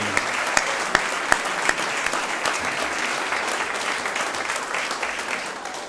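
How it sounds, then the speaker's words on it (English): Audience applause at a school board meeting, a steady round of clapping with a few sharp individual claps standing out early, then tapering slightly toward the end. "let's give her a round of applause"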